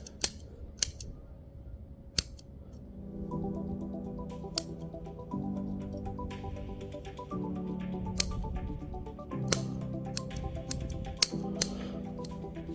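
Scissors snipping roots of a Ficus microcarpa bonsai, sharp isolated clicks and cuts spaced irregularly over a low background hum, close and crisp.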